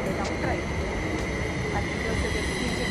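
Train at the railway station beneath Zurich airport, heard as a steady low rumble with faint tonal whines and a few brief clanks, filling the space as constant background.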